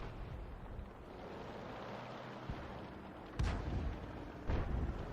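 A tank cannon fires in a tank battle video game, two deep booming shots with rumbling tails over a low steady engine drone, both fairly faint.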